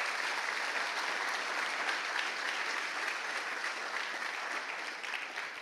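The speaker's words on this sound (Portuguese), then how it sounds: "dê um forte aplauso ao Messias" A church congregation applauds together in a dense, even wash of clapping that holds steady throughout and tails off slightly at the end, heard from a little distance.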